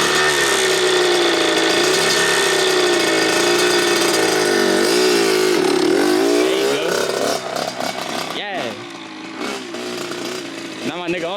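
A Kawasaki KX100 two-stroke dirt bike engine buzzes loud and close, holding a high steady drone before revving and dipping in pitch as it pulls away, with voices shouting nearby.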